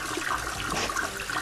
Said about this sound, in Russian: Зато у него есть звук смывания, когда он его убивает.